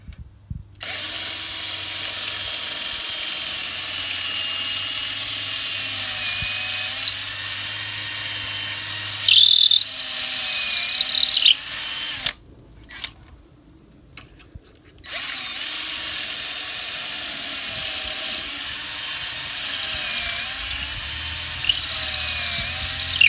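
A high-pitched power drill with a Kreg jig drills angled pocket holes, whining steadily in long runs, stopping briefly partway before starting up again, close and loud.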